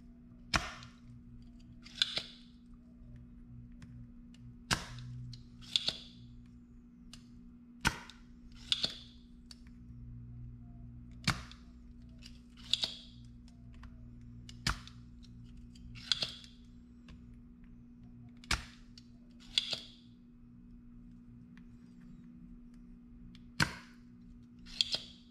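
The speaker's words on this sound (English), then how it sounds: "Let's see if we can solder suck some of the solder here." A solder sucker desoldering pump snaps with sharp, isolated clicks roughly every few seconds, about a dozen in all, each followed by a brief hiss, over a steady low hum at a workbench during ebike battery repair.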